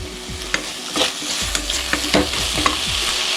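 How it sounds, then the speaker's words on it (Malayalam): Tomatoes sautéing in a hot pan with curry leaves for a crab fry, a loud continuous sizzle close by, punctuated by scraping clicks of a spoon stirring at irregular intervals, no voices. "തക്കാളി ഇട്ട് നല്ല വഴറ്റണം"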